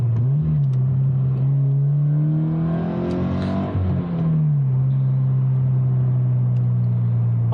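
A Subaru BRZ's engine drones steadily from inside the car while driving, rising briefly in pitch as it revs before settling back to a constant hum.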